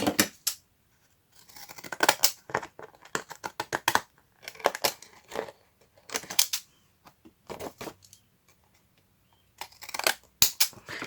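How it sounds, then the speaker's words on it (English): Scissors snip around the edges of paper in a crafting session, with irregular clusters of crisp close cuts separated by brief pauses and no speech. "I really need to cut a little around the edges."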